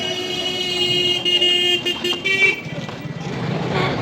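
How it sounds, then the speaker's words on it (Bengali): Traffic flows along a very busy road in Bangaon, with steady engine rumble and several sustained car horns honking, some overlapping, close by and loud throughout. "এবার ভেতরে যাচ্ছি এবং এই সিঁড়ি দিয়ে একটু উঠব খুব ব্যস্ততম রাস্তা এটি"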